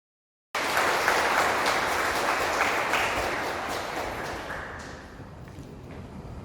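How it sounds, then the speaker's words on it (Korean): Wedding guests in a hall applaud the opening song, a sudden full burst of clapping that holds steady and then slowly thins out. "여러분 큰 박수 부탁드립니다."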